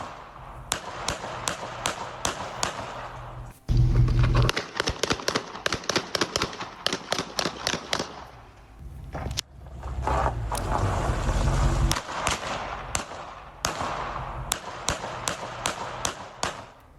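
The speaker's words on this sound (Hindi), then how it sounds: "पहले आप सुनिए कैसे गोलियों की आवाज वहां गूंजी है" Rapid bursts of gunfire crackle in long volleys, many sharp shots in quick succession, loud and echoing, with a brief lull between the barrages.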